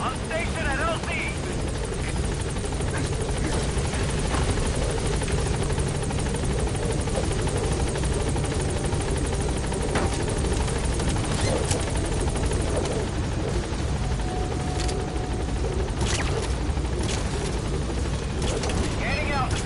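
Helicopter rotor chopping loudly and steadily while arriving at a landing zone in Metal Gear Solid V, with mechanical whine and occasional distant gunfire beneath radio chatter.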